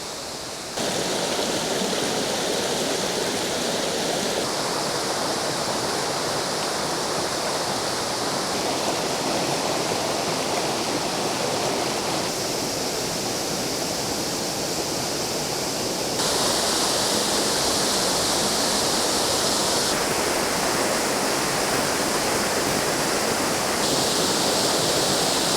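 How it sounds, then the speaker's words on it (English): Waterfall on the River Douglas at Tiger's Clough in Rivington, a loud, constant rushing roar heard close by, its tone shifting slightly now and then, with no voices. "So I hope you've enjoyed the footage there of the waterfall."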